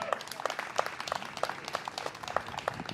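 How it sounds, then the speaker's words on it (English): Scattered applause from a modest crowd, individual claps distinct and uneven, moderately loud and continuing throughout. "Big round of applause for them."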